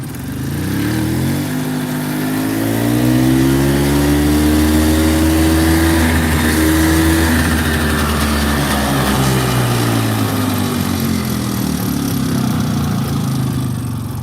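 A 1986 EZGO golf cart engine revs up loudly and close, its pitch rising then holding high before easing down, with steady droning under the throttle and no talking.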